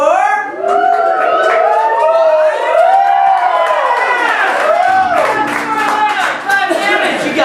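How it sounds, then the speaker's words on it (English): Improv comedy audience at a Magic: The Gathering-themed show erupting in loud whooping and siren-like cheering voices, with a clatter of clapping building toward the end. "So my round of applause for Corina"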